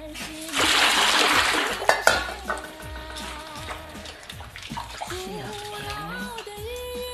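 Potatoes of a local highland variety, called Wugege, sloshed and splashed by hand in water during a second rinse in a rural Tibetan-area kitchen, with a loud burst of splashing early and then quieter sloshing and clattering.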